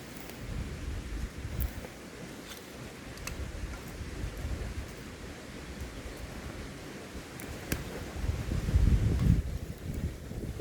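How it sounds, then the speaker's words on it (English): Wind gusts steadily at an outdoor wild camp, a broad rushing buffet on the microphone that swells louder near the end, with faint scattered ticks and rustles beneath. "Bit of wind's helping."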